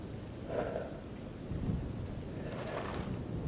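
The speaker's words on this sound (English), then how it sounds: "Oh, rain." Rain falls steadily in a survival shooter game set between Dark Valley and a truck cemetery, with two soft rolls of thunder rumbling in close succession over the continuous patter.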